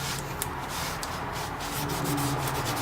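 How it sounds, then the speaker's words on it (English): A rag rubbing and wiping over a brake caliper surface after brake cleaner is sprayed on, a steady close scrubbing with a few light knocks and no speech. "So just shoot some brake clean on there and wipe it down."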